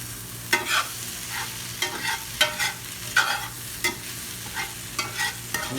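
Bite-sized sausage pieces stirred in a hot pan, with repeated scraping, clattering stir strokes over a steady low sizzle, close and fairly loud, no talking.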